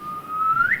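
A woman whistles to call her husband, a single clear sustained tone that holds steady and then slides upward at the end, close and loud over faint background.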